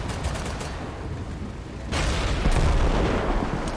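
Tank cannon fire in a combat video game, a steady barrage of booming blasts and crackling gunfire that grows louder and denser halfway through, with no talk over it.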